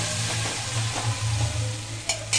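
A chili, garlic and ginger paste sizzles in a hot pan, loud and close, with soft stirring and a short sharp scrape at the end.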